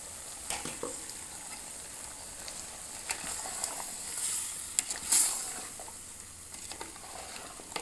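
Coconut, cinnamon and cloves sizzling and stirred in a pan for sambar, a soft steady frying hiss with a few sharper crackles and spoon scrapes, close by and fairly quiet, no talking.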